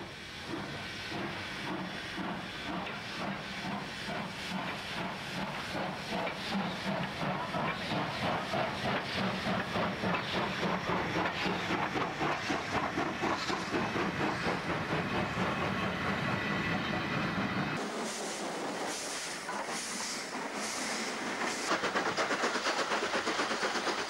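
A New South Wales steam locomotive of the mid-1960s hauls a passenger train, its rhythmic exhaust chuffs beating steadily with hissing steam and rolling wheels, moderately distant, the sound shifting near the end.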